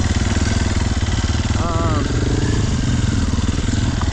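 A Sherco SEF300 four-stroke dirt bike on its first trail ride, engine running steady and loud at close range with a throaty, buzzing drone and a brief rev partway through.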